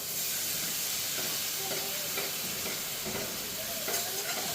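Pumpkin pieces frying with onions, salt and spices in a pan, stirred with a spoon: a steady close sizzle with scraping stir strokes recurring every second or so, no voices.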